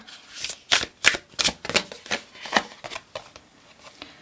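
Tarot cards being shuffled close up, a series of crisp riffling bursts and flutters in an irregular rhythm, fading slightly toward the end with no talking.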